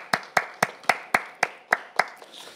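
Congregation applause at a Korean divine healing meeting, heard as eight crisp, evenly spaced unison claps in a steady rhythm, loud and close with no talking over them.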